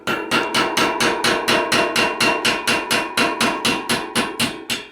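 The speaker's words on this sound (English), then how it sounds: "So I'll get this here, get this in here, and hammer it" Rapid, evenly spaced metal-on-metal hammer blows on a punch against a bicycle freewheel, about three strikes per second, close and loud, with no voices.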